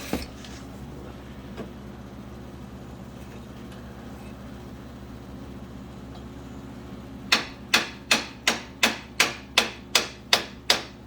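Parts are tapped into place on a Can-Am Outlander XMR 1000 ATV. A quiet garage hum comes first, then about ten sharp, evenly spaced hammer blows ring out close by.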